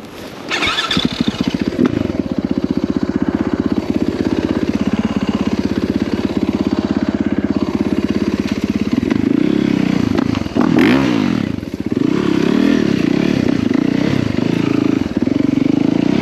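A 450 dirt bike engine fires up and runs close by, holding a steady, loud buzzing idle with clattering mechanical noise, then revs and surges briefly before settling back.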